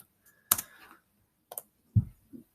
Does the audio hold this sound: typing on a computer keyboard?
yes